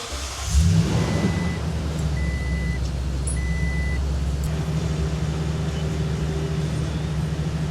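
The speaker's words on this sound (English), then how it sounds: "I'm gonna start my truck." A Toyota Tundra pickup truck's engine cranks and catches with a quick rising rumble, then settles into a steady, close low idle while a few high electronic chime beeps sound intermittently.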